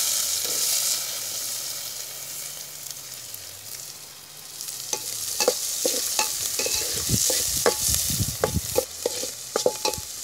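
Onion and crushed garlic fry in a pan with a steady broadband sizzle; from midway, sharp scraping stir strokes join the hiss, and no one talks.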